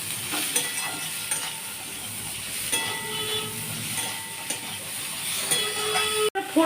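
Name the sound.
beans frying with onion in a pan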